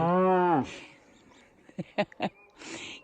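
A single loud, drawn-out cow moo opens the moment near a national forest campground on a long-distance hiking trail, fading into quiet outdoor ambience with a few short knocks afterward.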